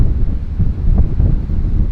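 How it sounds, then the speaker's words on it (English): Strong wind buffets the microphone outdoors in cold weather, giving a loud, low, gusty rumble that surges and eases irregularly with no voices present. "Ooh, it's windy."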